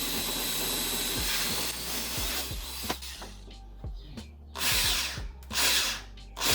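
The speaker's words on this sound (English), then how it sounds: "Just gonna drill right through." A power drill boring straight through a 3/4 inch hole in a BRZ/FRS/GT86 bumper quick release mount, whirring loudly and steadily before easing off into intermittent bursts and a hissing spin-down.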